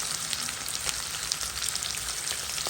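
Onions fry in a pan, giving a steady, close crackling sizzle with scattered sharp pops and no voices.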